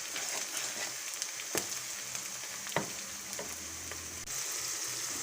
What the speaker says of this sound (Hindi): अब हम इसमें नमक शामिल करेंगे जिससे प्याज जल्दी ब्राउन हो जाएगा।